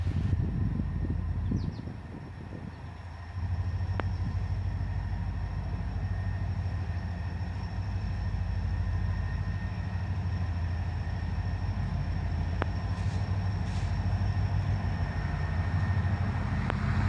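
A freight train with older locomotives rolls slowly past during a meet with another train, making a steady, heavy low rumble that continues throughout.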